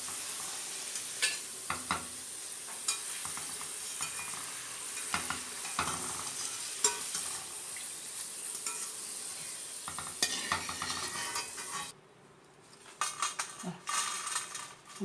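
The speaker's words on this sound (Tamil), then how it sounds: "இந்த சலசலப்பு நின்ன உடனே நம்ம எடுத்துடலாம்." Potato chips deep frying in hot oil give a steady, bright sizzle throughout, with frequent close clinks and scrapes of a metal utensil stirring in the pan, fading toward the end.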